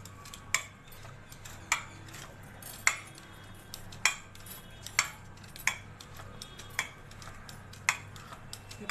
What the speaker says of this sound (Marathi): आता रवीने जरा घोटून घ्यायची भाजी ती,